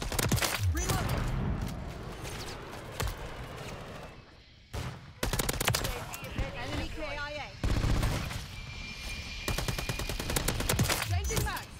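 Bursts of rapid gunfire from a Holger 556 rifle in Call of Duty Modern Warfare 3 come in repeated volleys separated by short pauses, loud and close, with game voice lines underneath.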